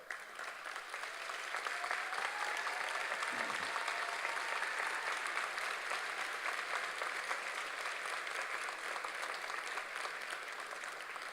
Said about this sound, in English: stand for a round of applause